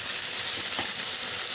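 Fresh green okra sautés in a pan with a steady, close sizzling hiss that holds evenly throughout, with no talking.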